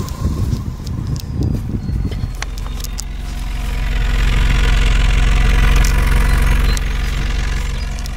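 A first-generation Toyota RAV4 running on eight-year-old gas idles a little shakily after a cold start, its steady engine drone swelling slightly and holding close and loud, with no talk over it.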